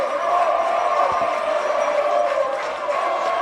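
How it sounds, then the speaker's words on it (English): Purple Knight fans at a high school baseball game between Brother Martin and St. Augustine roar in sustained cheering, a broad crowd swell filling the stands throughout. "the Purple Knight crowd erupts"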